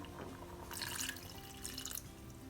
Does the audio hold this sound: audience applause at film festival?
no